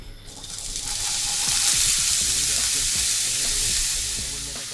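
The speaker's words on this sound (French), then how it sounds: "on fait revenir légèrement les oignons" Onions sautéing in a large wok on a food truck, a steady loud sizzle with stirring scrapes and clatter running continuously without talk.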